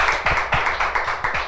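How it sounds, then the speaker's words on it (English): Audience applause at an Afrobeats live talk on building a global artist brand, a steady loud wash of many hands clapping with some distinct nearby claps, no talk. "can we have one more round of applause?"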